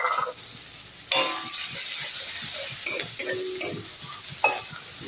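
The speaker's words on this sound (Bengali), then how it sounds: "ফোড়নটা রেডি হয়েছে, এবার পেঁয়াজ কুচা দিচ্ছি" Chopped onion hits hot oil with tempering spices for a cauliflower paratha filling, bursting into a loud sizzle after a quieter start, then crackling steadily under intermittent stirring scrapes.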